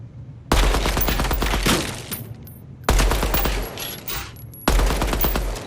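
Loud, close bursts of automatic gunfire from the Deadrop video game, three long sustained volleys with brief gaps between them and no talking.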